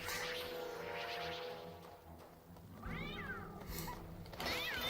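A cat in Sphinx and the Cursed Mummy gives several drawn-out meows and a yowl at moderate loudness over steady game background music, with no talk.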